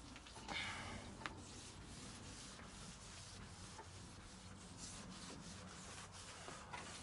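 A scraping pad scrubs a car body wet with an alcohol, water and ammonia cleaning mix, giving a steady, continuous rubbing and scraping sound close by with no talk.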